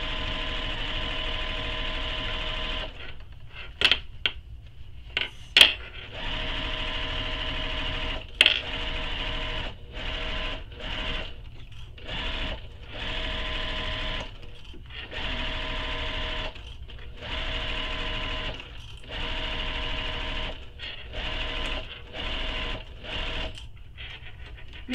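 Sewing machine basting a bag lining in place, a close, steady whirring needle drive running in repeated stretches, broken by short pauses and a few clicks and knocks of handling the fabric.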